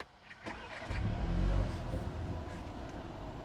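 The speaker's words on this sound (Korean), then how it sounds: "방금 시동 걸 때 약간 버블버블 거리면서 걸리는데" A BMW 3 Series engine starting up with a low burble, rising to a brief idle rumble that settles into a steady hum, heard from inside the car.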